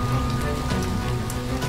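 Rain falls at night in the Fuukan no Grasesta video game, a steady pattering of drops on surfaces forming a constant wash of sound, with faint tonal background music beneath and no speech.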